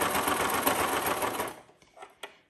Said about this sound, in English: Then you just slowly you top stitch over your binding.